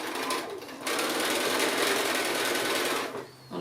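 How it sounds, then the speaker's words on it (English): A sewing machine joining small quilt blocks, a fast continuous whirring stitch that runs steady for a few seconds with brief slowdowns at the start and end. "to sew some of these little blocks together"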